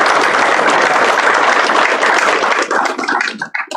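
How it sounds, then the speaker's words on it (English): A crowd at a career and technical education signing day bursts into loud, dense applause that holds steady, then thins into scattered individual claps as it fades out. "give them a round of applause"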